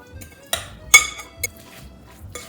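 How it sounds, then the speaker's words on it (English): A utensil clinks and taps against a bowl in irregular strokes while eggplant fritter batter with pecorino cheese and flour is stirred, close and fairly quiet. "Pecorino cheese. You can put Romano cheese if you want. And some flour. And mix everything up."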